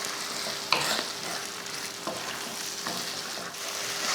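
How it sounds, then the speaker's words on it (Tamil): Beaten eggs with salt being stirred in a bowl during morning cooking, a soft steady scraping swirl with a few sharper utensil clinks against the side, close and alone without speech. "அதில் முட்டைக்கு தேவையான உப்பு போட்டு கலந்துருவோம்"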